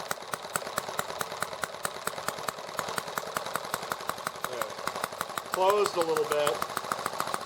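Small engine idling with a fast, steady ticking beat while its carburetor fuel mixture is adjusted, fairly quiet, with someone talking over it briefly.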